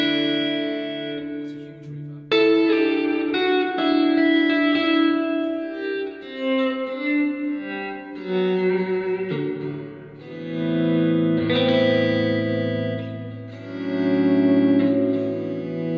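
Electric guitar through a Fender Super Champ X2 amp with a cave-like reverb effect, chords and notes smearing into long, echoing tails that overlap continuously, played alone and fairly loud.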